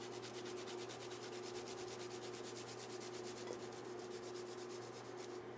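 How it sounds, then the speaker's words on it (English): Garlic cloves rasped over a kitchen grater for carbonara, a quick rhythmic scraping of repeated strokes, close and clear over a faint steady hum. "We're gonna take some garlic and grate in some garlic."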